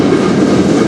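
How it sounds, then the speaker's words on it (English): A CN freight train passes in Sarnia, Ontario: a loud, close, continuous rumble of rolling wagons with a faint wheel clatter, lasting under a second. "A big train today."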